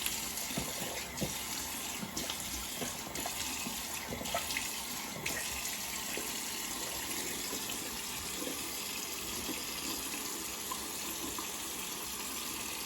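Tap water runs steadily into a sink as a freshly shaved face is rinsed, a continuous close hiss and splash with small irregular splatters and no talking.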